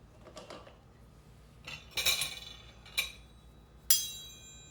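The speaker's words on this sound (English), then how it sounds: "now we're gonna release the spring form and we're gonna slice it" Springform pan being released and a stained glass cake sliced: a soft metallic click, then a cluster of clinks and scrapes, a sharper knock and a bright final clink, close and fairly quiet.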